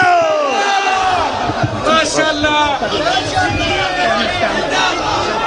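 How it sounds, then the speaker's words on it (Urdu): Crowd at a religious ijtema gathering in Gujrat chanting slogans in loud, sustained unison, voices rising and falling in rhythmic waves with a dense, close, continuous roar throughout. "بس بھائی اب نعرے نہیں لگانے"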